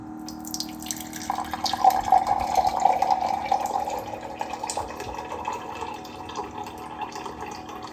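Water pours steadily from a Hydrofast C300 reverse-osmosis water purifier into a container for several seconds, a continuous splashing flow of cold water that gradually settles, with no voices.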